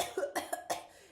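A child coughs in a quick series of four sharp, close bursts, spaced irregularly, with a faint trailing breath after the last one.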